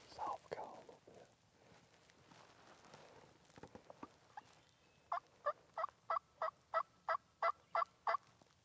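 A young male wild turkey, a jake, calls during a late-morning spring hunt, with a burst of gobbling followed by a long run of evenly spaced, sharp calls, faint at a distance, while hunters whisper nearby.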